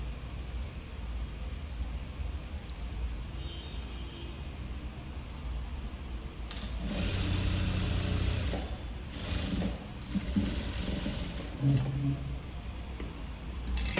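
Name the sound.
sewing machine stitching a blouse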